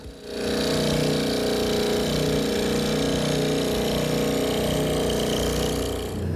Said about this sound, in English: Here I'm using my oscillating spindle sander to clean up the inside of the hand hole.